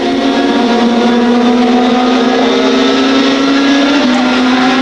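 WTCC touring race cars at Magny-Cours during a 2005 race make a loud, continuous engine drone, with a high revving tone that holds steady, then shifts slightly in pitch as the cars pass the pits.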